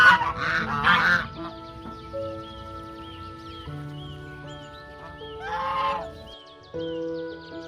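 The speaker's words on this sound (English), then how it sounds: "Swan." Swan calls, loud honking cries at the start followed by quieter honks and a later burst, with a musical background running underneath.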